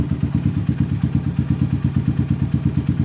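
Small LTM 150 motorcycle engine idling after starting, a fast, even, thumping putter close up and steady throughout.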